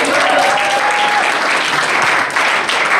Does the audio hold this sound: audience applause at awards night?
yes